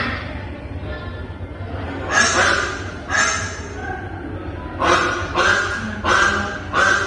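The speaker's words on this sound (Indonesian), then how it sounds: "Suara apa? Bebek." Recorded honking quacks from a duck played in a classroom listening game, coming in short repeated bursts, two and then four, over a low steady background hum.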